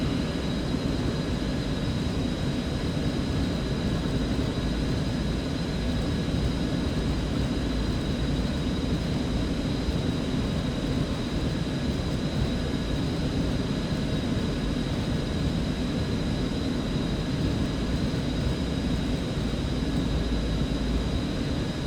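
Small Cessna Mustang business jet in the X-Plane 11 flight simulator, flying on approach near water: a steady, continuous engine drone with a broad rumble and a faint high whine, even and unbroken throughout, with no talk.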